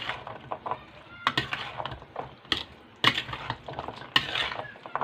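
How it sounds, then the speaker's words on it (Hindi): Black chana chaat being mixed in a bowl for a Ramzan snack, with several bursts of scraping and clinking from a spoon at irregular intervals and quieter stirring noise between them. "और ये देखें इसको मैं करता हूँ अच्छी तरह से मिक्स।"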